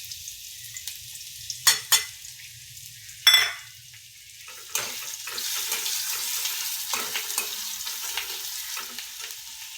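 Onion fries in oil for Marathi dodka chutney, with a couple of sharp spoon knocks early on, then a steady soft sizzle with light stirring for the rest of the time.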